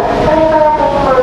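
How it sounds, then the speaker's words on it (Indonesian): A train passes straight through Bekasi station on track 3 without stopping, a loud close rumble with a sustained horn-like tone running throughout. "dari jalur 3 akan ada kereta api melintas langsung"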